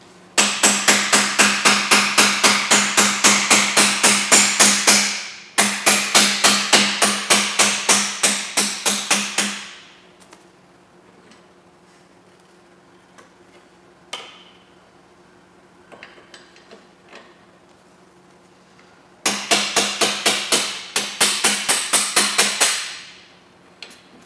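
Rapid, loud metallic hammer blows drive out the pivot pins of a bar in three rhythmic bursts, with quiet clinks and handling noises between them.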